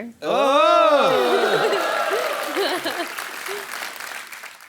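A TV comedy show studio audience applauds to welcome a guest, steady clapping filling the room while a host speaks over it with rising, animated voice.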